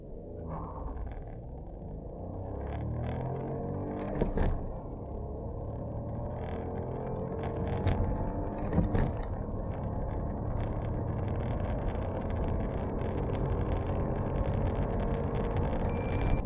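A Dacia Duster 1.0 TCe 100 LPG facelift accelerates hard on petrol, a steady engine rumble climbing through the gears with brief shift breaks, heard from inside the car.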